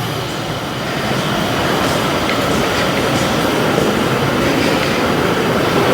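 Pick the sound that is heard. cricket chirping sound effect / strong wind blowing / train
train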